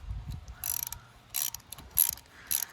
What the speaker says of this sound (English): Okay, we're going to put our pipe plug back in.